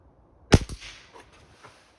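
A pneumatic air rifle with a built-in pump fires a single sharp, loud crack close by, followed by a quick echoing tail and faint settling noise.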